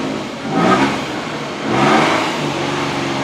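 A car engine idling at about 1000 RPM with a misfire, a steady mid-pitched running drone that swells twice in uneven surges, heard close with no talking.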